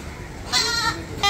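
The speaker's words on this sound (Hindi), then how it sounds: "बहुत अच्छी बकरी है हाँ।" A goat bleats at a crowded Mumbai goat market, a wavering bleat in the middle followed by a short second call at the end, heard over steady market background noise.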